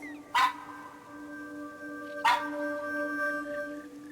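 A dog in the video game That Dragon, Cancer gives two short sharp barks about two seconds apart over a steady humming game music tone.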